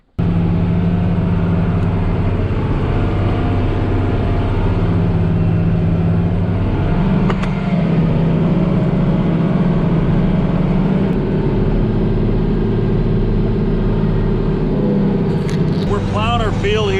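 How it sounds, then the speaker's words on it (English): Tractor engine droning steadily and loudly while plowing a field, with a low rumble and a shifting mechanical tone that continue throughout. "We're plowing our field here that we seeded in beginning of June."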